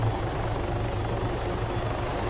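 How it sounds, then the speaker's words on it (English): Scout helicopter from the military game Arma 3 carrying a small infantry team, its rotor throbbing in a steady, dense drone that holds at an even loud level with no talk over it. "And the scout helicopter bringing in a small infantry contingent."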